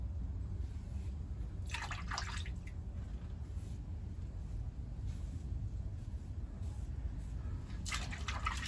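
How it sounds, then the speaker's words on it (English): Razor rinsed in water during a head shave: two short bursts of splashing and dripping separated by several seconds of quiet room hiss, faint and nearby. "Rinsing the razor after probably about 5-6 strokes at the most."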